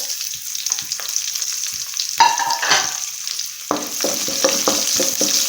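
Chopped garlic and shallots sautéing in a pan for a beef dish, a steady sizzle broken by bursts of stirring and scraping, close and clear with no talk.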